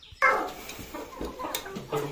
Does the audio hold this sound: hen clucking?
yes